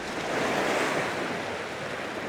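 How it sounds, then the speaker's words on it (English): Ocean waves wash onto the shore at the coast as the tide comes in, giving a loud, continuous rushing surf with wind noise and no talk. "the tide's coming in and it's sort of whipping around behind me and then going out"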